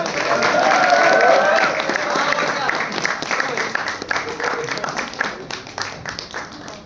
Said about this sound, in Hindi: अरे भैया, मेरे बेटे की शादी है, ताली बजाओ यार